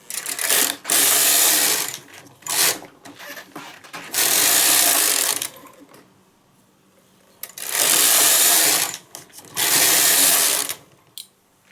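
A knitting machine carriage sweeps back and forth across the bed, knitting rows of a knotted shawl scarf, each pass a loud whirring rattle lasting about a second or two, separated by short pauses and one longer quiet gap.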